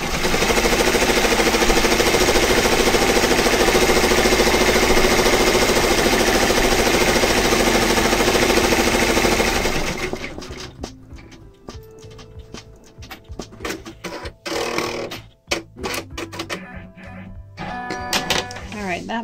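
An embroidery machine stitches the edge of a mask in the hoop, a dense, loud mechanical whirr for about ten seconds, then falling to quieter clicks and rattles as the stitching finishes.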